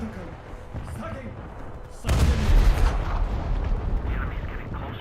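An ammunition detonation sinks a small ship in a naval combat game, a sudden loud booming blast that rolls on with a rumbling tail, under game voice announcements and a player speaking.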